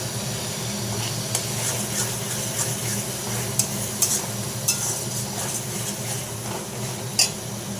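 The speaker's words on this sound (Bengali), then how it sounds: "জিরের গুঁড়ো, আর একটু ধনে গুঁড়ো দিয়ে ভালো করে আমি কষতে থাকবো" Spices with ground cumin and coriander fry in a pan under a steady hiss, punctuated by occasional sharp spoon taps and scrapes as the mixture is stirred.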